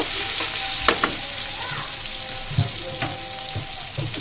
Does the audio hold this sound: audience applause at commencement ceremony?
no